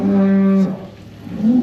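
Cattle in a barn give a loud, close, drawn-out moo, then a brief pause before a second call begins rising.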